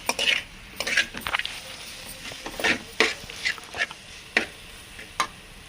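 Gongura leaves fry in a little oil under a quiet sizzle, punctuated by repeated sharp scrapes and clinks as a spoon stirs them in the pan at an uneven rhythm.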